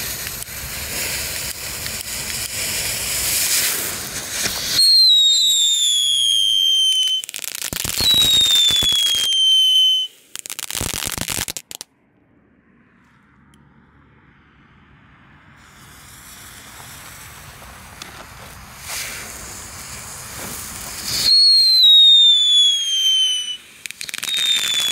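A category 1 firework fountain hisses and crackles in long loud bursts, punctuated by several rising-and-falling whistles, with a quiet gap midway before the spraying resumes.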